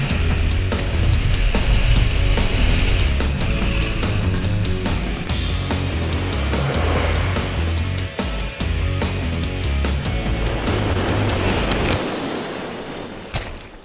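A Mercury 115 Pro XS outboard boat engine runs out on open water, a loud, steady low drone with rushing wind and spray over it, easing off and fading toward the end.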